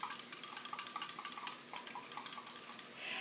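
Buttermilk and cooled melted butter being stirred together in a jug, a faint steady series of light clinks and taps from the utensil against the sides, fairly quick and even.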